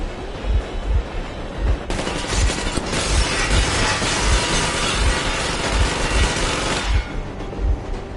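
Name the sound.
train engine running in Metro Exodus video game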